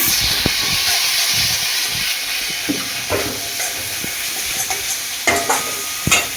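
Spice masala with chili and turmeric powder being fried for desi-style diamond fish, a loud hissing sizzle running throughout, punctuated by repeated spatula scrapes and knocks against the pan, no speech.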